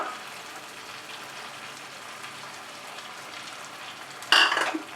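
Poppy seed paste frying in a pan with softened tomato for a Bengali egg posto curry, a faint steady sizzle that ends in a brief louder burst of stirring near the close.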